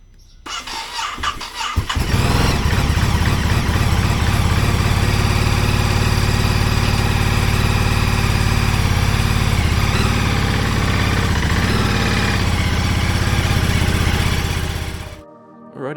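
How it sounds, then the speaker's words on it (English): A Ducati Desert X motorcycle cranks for a couple of seconds, catches and then idles loudly and steadily close by for over ten seconds before shutting off, no speech. "See if she wants to start."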